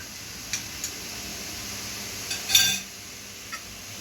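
Meat and onions are stirred in a cooking pot: a spoon gives a few light clinks and taps against the metal, with one louder scraping knock, over a low kitchen hiss.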